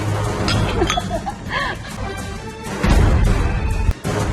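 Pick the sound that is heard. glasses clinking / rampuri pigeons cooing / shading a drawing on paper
glasses clinking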